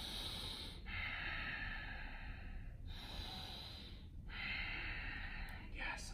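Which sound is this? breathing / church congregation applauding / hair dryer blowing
breathing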